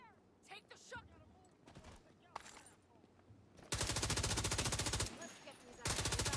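Rapid automatic gunfire in a Brooklyn street-combat video game, scattered sporadic shots and talk first, then two loud, sustained bursts of fast-rhythm firing near the end.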